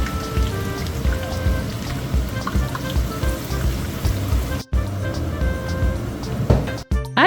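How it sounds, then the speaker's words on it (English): Chopped onions frying in hot vegetable oil and red oil, a steady dense sizzle like pattering rain, fairly loud and close, continuing alone with a couple of brief breaks near the end. "Once it's nice and hot, fry in your onions until they're soft and fragrant."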